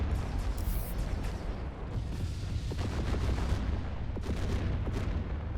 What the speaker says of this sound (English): I'm eyeing this destroyer ship here because it's straight up like a battleship, as we're about to see with these guns it's got